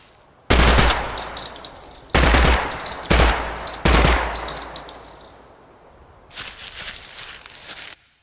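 A rapid-firing gun in the video game Project Silverfish lets off four sharp, loud bursts in quick succession, then a quiet pause, then one longer burst.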